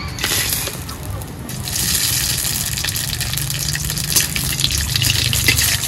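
Broth poured over hot tempering oil with radhuni seeds and bay leaves for a pumpkin and fish curry, making a loud continuous gushing rush of liquid that swells after the first second and keeps flowing.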